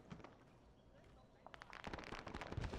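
A grenade goes off in a military video game, heard as a burst of sharp crackling blasts that follows a quieter, muffled stretch, with gunfire and battle noise around it.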